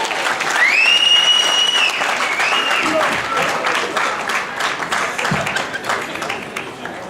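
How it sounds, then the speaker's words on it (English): Wedding guests applauding the bride and groom at a reception, a loud sustained wave of crowd clapping with a cheer or whistle rising early on and voices mixed in. "Give them a big round of applause."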